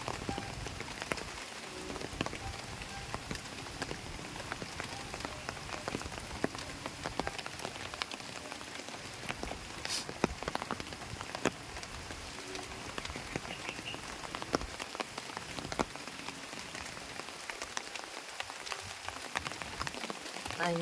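Heavy rain pours down in the Philippine countryside near flooded rice fields. There is a dense, steady patter of drops on surfaces with frogs croaking in the background and no talk.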